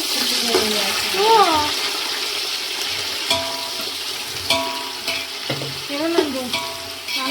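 Onions frying in oil for biryani, a steady sizzle with stirring scrapes and clinks of a utensil against the pan, and brief voices in the background.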